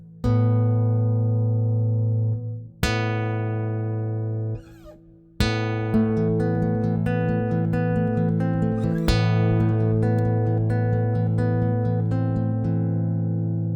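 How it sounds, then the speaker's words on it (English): A guitar plucked near the bridge rings out with bright, sharply attacked notes, a few strong accents followed by a flowing, arpeggiated passage, close and clear. "Here I accent the first notes and pluck the strings closer to the bridge."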